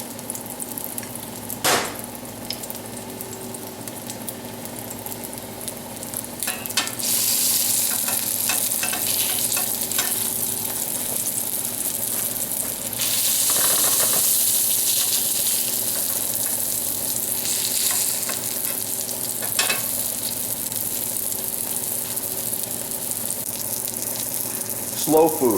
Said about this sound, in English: Put that right in the oil like this. Let it cook.